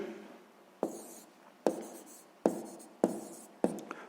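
Pen strokes scratch across paper while a sixth-grade math solution is written out, five sharp bursts of writing at a steady rhythm, close and quiet with no talking.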